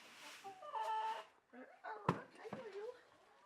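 Free-range chickens in a flock cluck and squawk at moderate distance in short, irregular calls, with a person talking at the same time.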